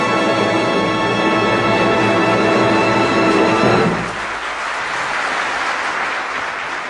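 An audience at the 1958 Eurovision Song Contest applauds the performer and conductor. Steady, dense clapping fills the hall, first under the closing orchestral chord and then carrying on alone for several seconds.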